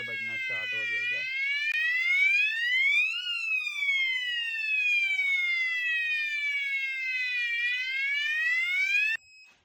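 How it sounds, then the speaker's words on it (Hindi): A fire alarm sounder rings after a manual call point is pressed, a loud continuous sweeping electronic wail rising and falling steadily for about nine seconds, preceded by a brief voice at the start. "जैसे ही प्रेस करेगा तो आप देखते हैं कि फायर का जो है वो साउंडर बजना स्टार्ट हो जाएगा।"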